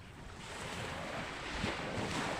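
Ocean waves at sea near a fishing boat, a steady broad wash of water and wind noise rising and falling softly, fairly faint with no voices.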